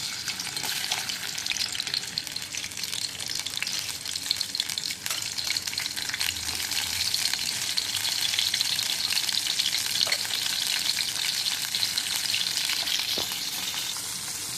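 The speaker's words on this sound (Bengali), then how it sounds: "লবণ হলুদ মাখানো পাতাগুলো আমি তেলের মধ্যে ফ্রাই করে নিচ্ছি" Steady, dense sizzling of leaves coated in salt and turmeric frying in hot oil in a wok, continuous throughout with occasional faint clinks, close and fairly loud.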